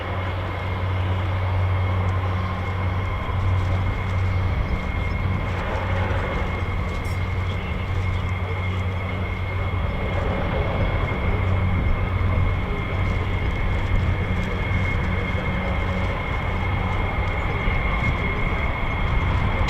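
A US Air Force F-15 or F-35 fighter jet taxis at RAF Lakenheath, a loud, steady engine roar with a low droning hum that holds close and continuous throughout.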